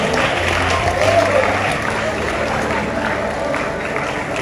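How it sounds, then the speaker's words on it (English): An audience claps steadily at a community gathering, a dense, even wash of hands lasting the whole stretch, with murmuring voices and faint tonal sounds underneath. "Clap for them now."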